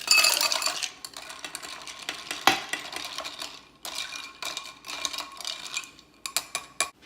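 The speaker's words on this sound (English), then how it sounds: "Okay, I'm going to stir this up. I'm going to add some ice." A spoon stirs ice in a Bloody Mary cocktail, giving a run of bright clinks and rattles against the glass. A sharp knock comes midway, and irregular taps follow with quiet gaps.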